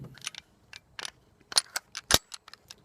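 Rounds loaded into a Kel-Tec PF9 9mm pistol magazine, a series of sharp metallic clicks and snaps in an irregular rhythm, close and crisp with no talking.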